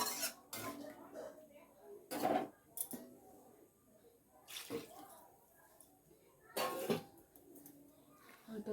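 A lid goes onto a cooking pot of simmering fish curry with several clattering metal clanks and knocks, close and fairly loud, while someone talks quietly between them.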